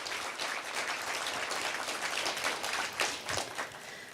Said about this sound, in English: Please join me in a round of applause to thank our business leaders